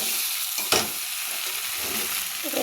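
Jackfruit and potato being stir-fried in a pan, a steady close sizzle with stirring scrapes and one sharper clatter of a utensil partway through.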